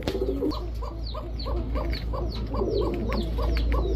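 Giribaj high-flyer pigeons coo in a steady repeating rhythm, many birds calling together at close range over a constant low background hum, with no talk.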